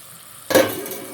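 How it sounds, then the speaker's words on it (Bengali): Vermicelli is tipped into a cup of boiling water in a wok and stirred, producing a sudden close splash and scrape that fades into a steady bubbling hiss. "সেমাইটা দিয়ে এটা জলে আমি আস্তে আস্তে এইভাবে নেড়ে চেড়ে নেব"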